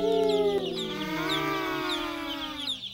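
Broiler chicks in a barn at nipple drinkers make continuous close high-pitched calls, with sustained sliding tones and overlapping cheeps and no speech.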